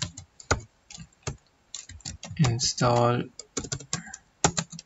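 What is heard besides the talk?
typing on a computer keyboard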